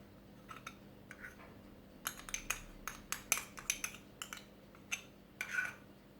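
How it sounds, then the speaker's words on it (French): Metal spatula scraping and tapping melted milk chocolate off a plate, a string of light clinks and scrapes that grows busier midway, close by with no talk. "j'utilise la spatule pour récupérer tout mon chocolat"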